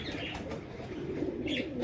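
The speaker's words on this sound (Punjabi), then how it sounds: "ਆਹ ਕਬੂਤਰ ਹੈ ਜੀ" A pigeon kept by a fancier cooing softly amid busy outdoor background noise, a brief low murmuring call with faint chirps over a steady ambient wash.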